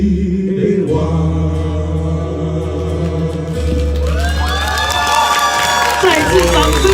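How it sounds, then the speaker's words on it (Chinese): An audience at a film premiere press conference claps and cheers, first as a steady wash of applause, then swelling louder with whoops and shouts in the last few seconds. "再次掌声，谢谢他们"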